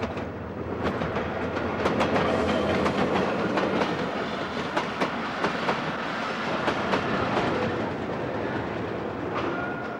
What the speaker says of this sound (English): I'm now back on the Khyber Mail, approaching Lahore, capital of the Punjab.